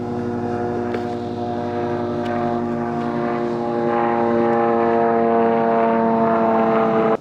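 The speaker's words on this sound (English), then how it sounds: "there's a strangely loud helicopter or plane outside" A propeller plane drones loudly overhead, a steady buzzing hum that swells slightly as it passes, with no talking.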